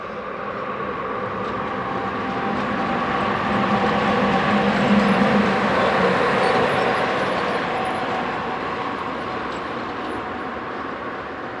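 A container train locomotive rolls through a rail yard near Zeebrugge, giving a steady broadband rumble that swells gently toward the middle and then eases. The sound is moderately distant and has no voices.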